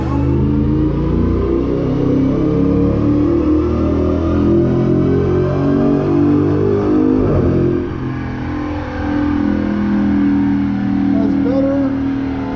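A 2007 SRT-8 with bolt-on modifications revs on a dyno, a loud sustained engine roar that climbs steadily in pitch, dips briefly near the end and then picks back up.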